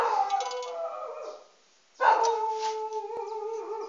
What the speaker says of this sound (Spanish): Fanny, Luis Carlos, callen ese perro, por favor. Son las 5 de la mañana